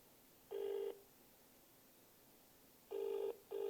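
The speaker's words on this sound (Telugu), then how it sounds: "ఫోన్ రింగ్ అవుతుంది" A phone call rings over the line in three electronic tone bursts: one long ring, a pause, then a long ring and a shorter one.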